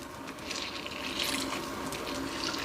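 Water trickling and splashing as grated food is squeezed firmly by hand for Hungarian fried pastry, a continuous close wet rush that is fairly quiet.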